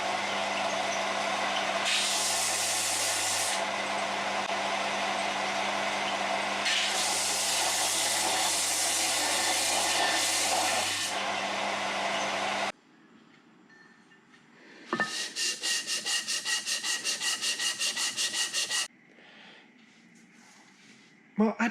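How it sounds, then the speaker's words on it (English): A belt sander lightly rubbing a metal base casting in a workshop, a loud continuous abrasive whir running steadily for about twelve seconds, then stopping, followed by quieter separate mechanical noises. "Give this a light rub on the belt sander here and here"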